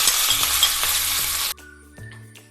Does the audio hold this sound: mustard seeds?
yes